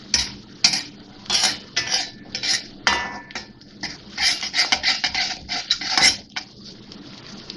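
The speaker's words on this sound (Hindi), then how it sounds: "थोड़ा सा इसको मिक्स करेंगे ताकि अच्छा सा फ्लेवर आ जाए इसमें" Cumin seeds being stirred in a hot pan for a Punjabi dhaba-style lauki sabzi, with a spoon scraping and clinking against the metal in quick repeated bursts, close and fairly loud.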